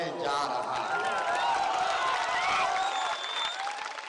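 Crowd applauding at a political rally in Bihar, a dense, steady wash of clapping and cheering with some shouts mixed in, loud and continuous throughout.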